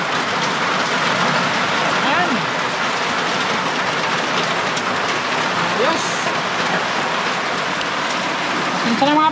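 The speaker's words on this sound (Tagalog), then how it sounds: "malakas talaga ulan" Heavy rain pours down in a dense, steady roar that fills the whole stretch, with voices faintly audible beneath the downpour.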